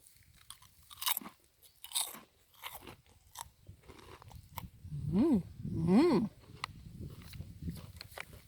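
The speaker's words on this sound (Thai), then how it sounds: "แล้วก็กรอบมาก เดี๋ยวจะกินให้ดูนะคะ กรอบกรอบ" Close crunching and chewing of Lay's wavy hot chilli grilled squid potato chips, irregular crisp bites and munching, with someone speaking between bites outdoors.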